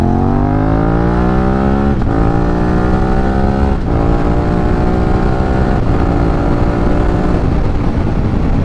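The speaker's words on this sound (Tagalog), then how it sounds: "Parang ang relax pa rin ng tunog ng tambucho." Reed SVT650 motorcycle exhaust held at full throttle, a loud continuous engine drone rising steadily in pitch through each gear, with short dips at three gear changes and no talk over it.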